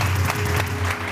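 A studio audience on a Pakistani TV morning show claps in a brief, dense burst, with a low hum running underneath.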